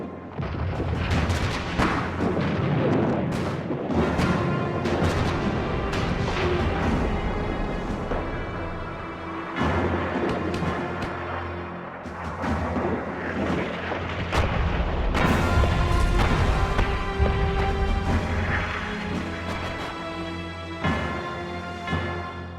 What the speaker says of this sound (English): Over their heads, American guns laid a barrage of shells to soften up the German defences.